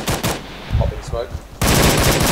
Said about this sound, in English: I'm just shooting a bit wild at the moment